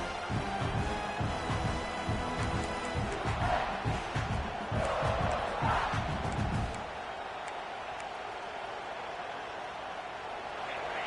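A stadium crowd at a college football game against Clemson roars loudly and continuously as the home defense pins opponents deep, then the noise drops abruptly to a softer, distant crowd murmur for the final few seconds.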